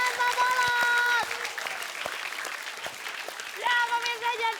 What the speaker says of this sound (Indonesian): kita kasih tepuk tangan untuk Pak Mali, Pak Jaya, dan Pak Bolot.